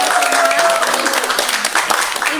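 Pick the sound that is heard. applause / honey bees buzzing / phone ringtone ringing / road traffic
applause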